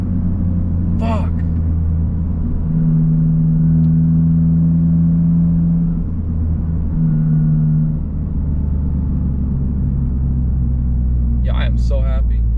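Toyota GR Corolla with a new aftermarket exhaust, engine running in a steady low rumble with a couple of held rev swells, the tone rising then settling, while a voice calls out briefly near the start and end.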